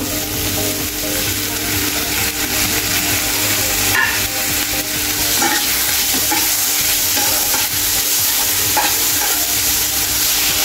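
Chopped tomato sautéing with fried onion and garlic for a dhaba-style lasuni methi, a steady loud sizzle with scraping stir strokes running throughout, no talking.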